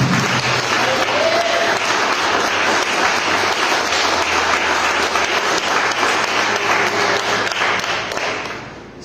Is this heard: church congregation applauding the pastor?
yes